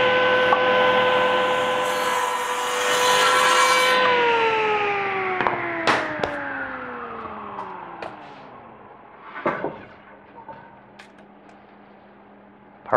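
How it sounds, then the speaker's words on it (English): A saw trims wooden pool table subrails to final dimensions, its whine steady and then falling in pitch as the blade spins down, followed by a few sharp knocks and clatters of wood being handled. "I've set up my saw."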